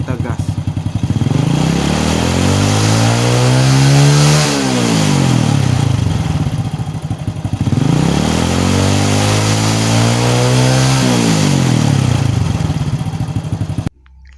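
A motorcycle engine is revved hard twice, each rev climbing then falling back to idle, loud and close in a workshop during a battery voltage check with an analog multimeter.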